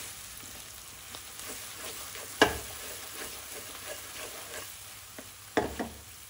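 Turmeric, chili, curry and coriander powder being stirred in a hot pan, with a soft, steady sizzle and occasional scraping clicks of the spoon against the pan, close up.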